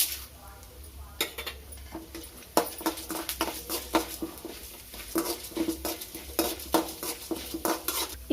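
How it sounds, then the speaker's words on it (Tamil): Urad dal and chana dal sautéing in a pan for samba rava upma, with repeated close metallic scrapes and clinks of a spoon stirring against the pan over a faint sizzle and steady low hum. "கடலை பருப்பையும் இப்போ சேர்த்து நம்ம வதக்கிக்கலாம்."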